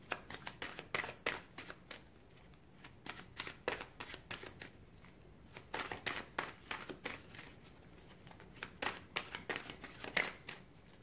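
Tarot cards are shuffled by hand in repeated quick riffling bursts, crisp and close, with brief pauses between rounds and no talking.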